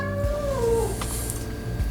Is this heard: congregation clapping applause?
no